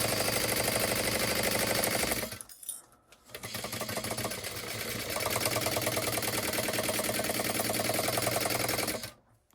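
A sewing machine back stitching cotton fabric, its rapid needle chatter loud and close, stopping briefly for a pause before running steadily again and halting at the end.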